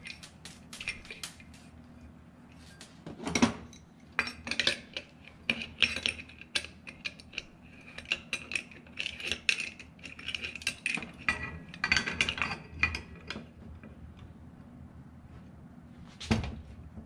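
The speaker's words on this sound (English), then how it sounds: "And bolt this thing back on" Reattaching a ceiling fan with a washer and nut, producing scattered metallic clinks, taps and rattles of parts and tools, some louder knocks among quieter fiddling, no talking.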